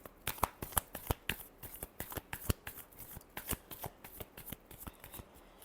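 Close, crisp shuffling of a tarot deck, with repeated sharp card slaps in an even rhythm throughout and no voices.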